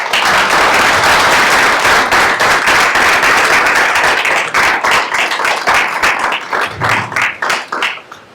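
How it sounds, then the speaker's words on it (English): Applause from an audience at a talk on American democracy starts loud and dense, then thins into fewer separate claps that fade toward the end, with no speech over it. "Let's give him a round of applause."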